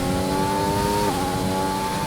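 Race car engine in the video game Grand Prix 3 at the Spanish Grand Prix, a steady, high, loud whine held at high revs with a brief dip as the pitch shifts midway.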